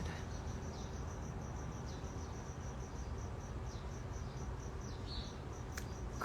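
Crickets chirping in the morning, a faint, steady high-pitched trill running continuously over a constant hiss of background noise, with no talking.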